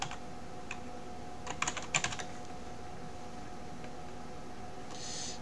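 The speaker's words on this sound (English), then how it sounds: "in the search box I'm going to type Duplicator." Typing on a computer keyboard while entering a plugin name into a WordPress search box: a short quick burst of soft key clicks mid-clip, close and fairly quiet, over steady faint background hum, with no talking.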